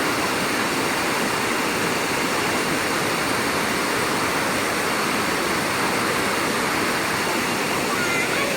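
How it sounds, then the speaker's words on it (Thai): Krathing waterfall (Bull Falls) in Chanthaburi, a clear-water forest cascade, roaring as a dense, unbroken broadband rush of falling water, loud and close, with no break or change across the whole stretch. "น้ำตกกระทิงนะคะ"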